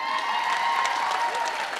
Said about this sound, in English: Let's give another huge round of applause to Mrs. Carrie Redman